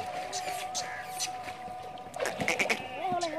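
A goat bleats in wavering cries close by while being bathed on a goat farm, with splashing water and handling noises around it.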